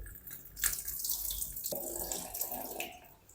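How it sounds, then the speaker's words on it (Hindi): Potatoes are rinsed in water to remove their starch, with steady splashing and sloshing of water in a bowl or sink, close and fairly constant, with some drips and brief pours. "जल्द से हम आलूओं को वॉश कर लेते हैं। ये पानी हम सारा निकाल देंगे।"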